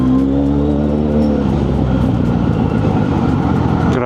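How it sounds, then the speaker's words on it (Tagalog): Heavy road traffic on EDSA rumbles loudly and continuously from a big bike in the thick of it, a dense engine drone with a low idling hum that swells into broad traffic noise. "Grabe traffic na."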